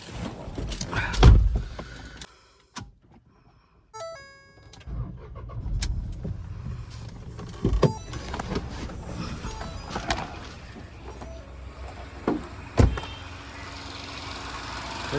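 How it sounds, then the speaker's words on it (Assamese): A petrol-engine Ford EcoSport starts with a brief crank and settles into a steady, close idle, with a few door or window clunks and small mechanical bumps along the way. "মই এবাৰ ষ্টাৰ্ট কৰি শুনাই দি আছোঁ আপোনালোকক।"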